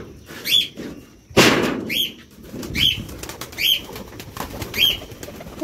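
Pigeons call in short repeated bursts, with a flurry of flapping wings and scattered light rustles nearby.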